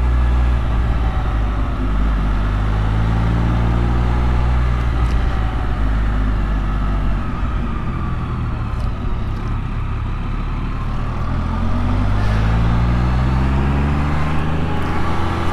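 A Can-Am Spyder three-wheeled motorcycle is ridden near Niagara Falls, its engine a loud, continuous drone whose pitch rises and falls steadily as speed changes, with wind rush over the top and no voices.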